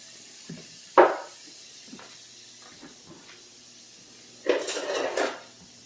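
Cooked sausage is lifted from the pan into a bowl, with a sharp metal clank, a few light scrapes and taps, then a short burst of clattering dish and utensil noise near the end.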